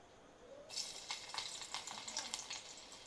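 Garlic dropped into hot oil in a pan for masala kadhi, a sudden sizzle that starts after a brief quiet and then crackles and spits steadily, close and fairly faint.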